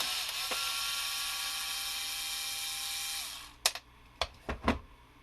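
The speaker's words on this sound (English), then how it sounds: "we're going to take all the screws out. There's 7 screws on the bottom of this" A small power screwdriver whirs steadily while removing screws from the bottom of a Fisher Price sloth toy, then stops, followed by a few sharp clicks and clatters of handling.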